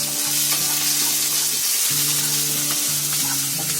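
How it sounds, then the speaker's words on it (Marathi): Green chillies and ginger fry in about two spoons of hot oil in a pan for a fasting masala dosa filling, producing a loud, continuous close sizzle throughout. "असं मिरची आहे ना चांगलं फ्राय करून घ्यायचं"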